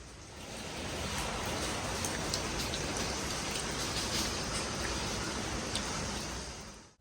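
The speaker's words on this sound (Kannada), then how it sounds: "ಬೆಳಬೆಳಿಗ್ಗೆ ಮಳೆ ಬರ್ತಾ ಇದೆ ಸಂಡೇ ಇವತ್ತು ನೋಡಿ" Early-morning rain falling steadily on a terrace, a dense even hiss of drops that swells in and holds throughout, with no talk.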